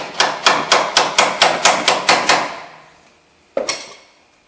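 A hammer strikes the upper ball joint of a 1995–2002 Crown Victoria or Grand Marquis about ten times in a quick, even series of sharp, close metallic taps, each with a short ring. After a pause, one final blow lands.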